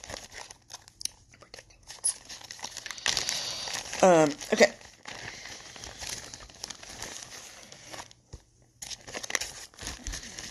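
A plastic bag crinkles and rustles in a short burst midway through, amid quieter handling noises and a brief spoken word.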